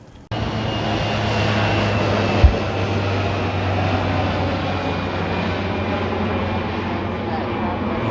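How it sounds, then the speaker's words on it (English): A low-flying crop duster airplane drones overhead with a loud, steady propeller roar that starts abruptly and holds for several seconds, with a brief thump partway through. "Oh, that's a crop duster."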